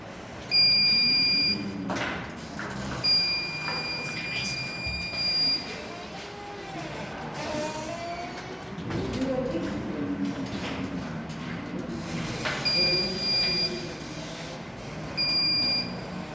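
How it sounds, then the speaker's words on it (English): A home-built school project home security alarm sounds repeated high, thin electronic beeps in short bursts separated by pauses, heard over a murmur of background noise and faint voices. "When the thief enters in the house, we get a beep and the LEDs lit up."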